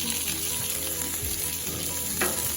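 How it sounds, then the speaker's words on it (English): Burger patties toast in Irish butter in a hot pan, giving a steady, close sizzle and crackle with brief scraping touches and no voices. "we have our burgers with some Irish butter. Go ahead and toast those patties"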